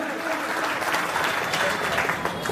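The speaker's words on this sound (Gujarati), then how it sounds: "તાળીઓથી વધાવો સાહેબ" A ceremony audience at a Shamlaji Sneh Milan gathering breaks into steady, even applause, a dense wash of many hands clapping at moderate distance for a couple of seconds.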